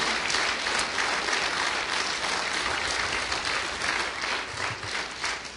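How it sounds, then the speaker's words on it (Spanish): A church congregation gives a sustained round of praise applause, dense and steady clapping filling the room at an even loudness for several seconds with no speech. "¿Puedes darle otro aplauso de alabanza al que es Rey y Señor?"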